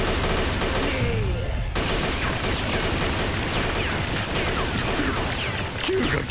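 Dense anime gunfire and explosions pound continuously in a loud, chaotic battle, with scattered shouting beneath the barrage.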